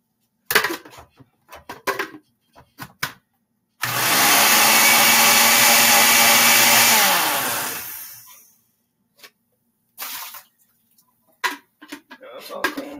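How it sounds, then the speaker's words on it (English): A kitchen blender whirs while being rinsed after making a protein shake, one loud steady burst lasting a few seconds that then winds down, with clicks and handling noises before and after. "So you rinse the blender fast."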